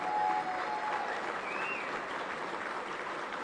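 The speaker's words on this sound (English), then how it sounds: "Once again, let's give them a round of applause." Audience applause fills a hall at a sports hall of fame induction ceremony honoring a 1972 basketball team, a steady dense clapping that holds at an even level throughout.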